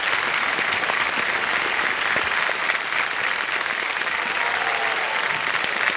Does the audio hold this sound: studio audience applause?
yes